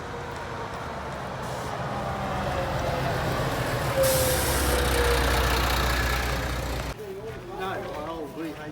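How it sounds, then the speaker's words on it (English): A charter bus rolls in at a railway workshops open day, its engine rumble building as it nears, then a long hiss of air brakes before it settles, with voices nearby. "And here comes the charter bus."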